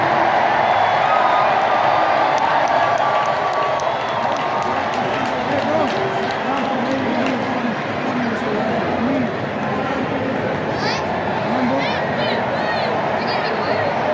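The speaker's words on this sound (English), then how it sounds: "the crowd was really rocking." Stadium crowd cheering and roaring during the 2023 MLB Home Run Derby in Seattle, heard from the left field stands: a dense, sustained wash of voices with shouts rising out of it, loud and close throughout.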